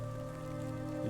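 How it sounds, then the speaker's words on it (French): Rain in the video game Death Stranding falls steadily, a soft continuous patter of drops over low droning tones, faint and unbroken with no voices. "Une pluie normale maintenant."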